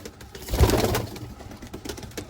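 A newly paired couple of pigeons coos softly nearby, one low throaty coo swelling and fading in under a second, followed by faint rustling and quieter murmurs.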